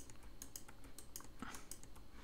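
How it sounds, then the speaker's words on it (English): Repeated key presses on a computer keyboard, including the delete key, during drawing work in Inkscape; crisp, close clicks in an uneven rhythm over a low background hum. "I'm just clicking on them and pressing delete on the keyboard"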